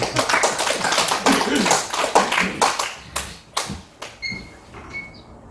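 Applause from an audience at a church evangelism group gathering, a burst of many hands clapping that loosens into a few scattered, separate claps and then dies away.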